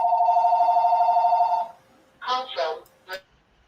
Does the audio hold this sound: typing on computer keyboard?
no